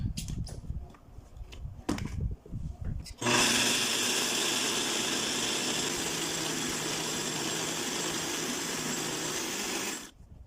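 A blender grinds hard popcorn kernels, ginger and water for akamu, roaring loudly and steadily for about seven seconds before cutting off, preceded by clattering and handling noises.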